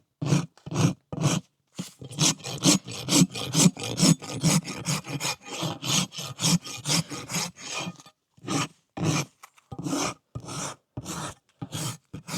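A rasp files a horse's hoof during a barefoot trim, producing a long run of rough, rhythmic scraping strokes up close, each stroke a short gritty burst with small pauses between.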